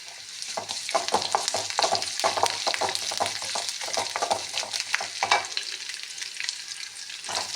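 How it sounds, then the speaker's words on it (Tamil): Green chillies fry in a pan while making Kerala-style curd curry, producing a loud crackling sizzle with rapid, rhythmic stirring scrapes that ease briefly near the end, no speech. "லேசாக கலர் மாறியவுடன் அறிந்து வைத்துள்ள பச்சை மிளகாயை சேர்க்கவும்"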